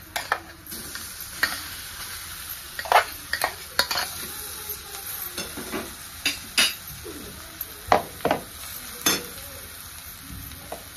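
Finely chopped ridge gourd frying in oil with turmeric, a continuous sizzle broken by repeated scraping and clinks of a spoon stirring against the pan, close and fairly loud, with no talking.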